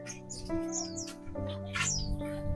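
Small birds chirp and tweet in a few quick, high bursts against a steady hum and low household noise, moderately close.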